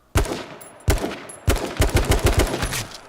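Gunfire in the battle royale game H1Z1 or PlayerUnknown's Battlegrounds: three sharp, loud single shots followed by a fast string of about eight rapid shots, with no talking.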